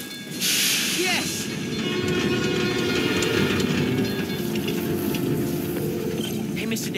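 A subway train in the video game Spider-Man, a loud continuous rumble and rattle with a hissing burst at the start and screeching overtones, heard up close.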